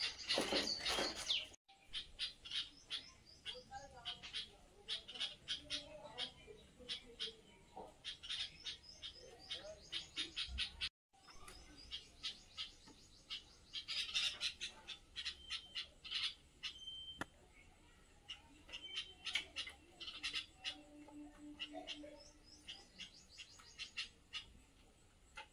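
Small birds chirp and tweet rapidly while feeding on scattered food on the ground. The calls are quiet and fairly close, with some squawks and soft cooing mixed in, and they pause briefly twice.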